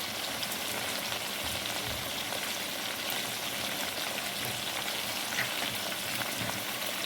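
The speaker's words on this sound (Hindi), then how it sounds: "5-7 मिनट के लिए भून लेंगे अच्छे से" Meat frying in a pot for pulao, a dense continuous sizzle and crackle held at an even level throughout, with no talking.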